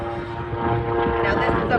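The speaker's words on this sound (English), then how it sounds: "Now this is a Burt Rutan with the Delta Wind Canard and is highly efficient" Burt Rutan canard propeller airplane at an aerobatic airshow: a steady droning propeller hum with a constant engine tone, heard from a distance beneath a loudspeaker announcer talking.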